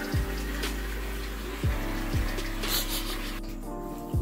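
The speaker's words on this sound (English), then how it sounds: "I'm gonna go pour it in." Canned hominy tipped from the can into a pot of pork posole, giving a few brief wet plops and sloshes over a steady low kitchen hum, with no talking.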